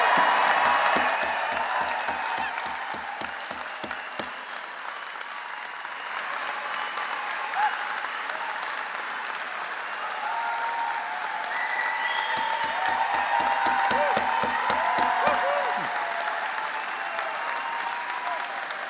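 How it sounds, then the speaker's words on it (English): Graduates at a Trent University convocation in the Durham Greater Toronto Area receive sustained audience applause across a large hall, steady and dense for the whole stretch, with faint voices and whoops mixed into the crowd. "Could I ask for a wonderful round of applause for our graduates and all they have done?"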